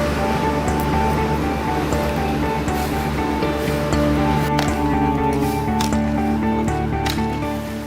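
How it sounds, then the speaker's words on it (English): Kalamkari cloth printed with natural dyes in Srikalahasti is washed in water, giving a continuous, loud sloshing and swishing with faint drips throughout and no speech. "The cloth is finally washed and after drying, it is ready for use."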